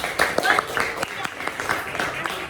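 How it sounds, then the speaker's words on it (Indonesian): A classroom of students gives a short round of applause, with quick irregular claps that sound fairly faint and are mixed with some nearby voices. "Oke, tepuk tangan"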